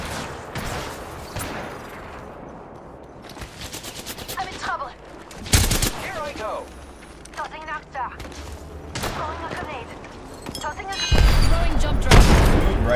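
Rapid bursts of automatic gunfire and heavy booms in an online Apex Legends ranked match, repeated volleys loud and close, with in-game voice callouts and effects mixed between the shots.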